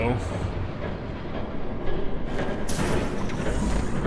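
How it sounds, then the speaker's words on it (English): Train rumbling and rattling as it approaches in the video game Batman: The Telltale Series, a dense, steady roar that swells louder toward the end, with speech mixed in. "There's a train coming."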